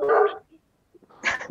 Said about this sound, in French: Ah, t'as un chien.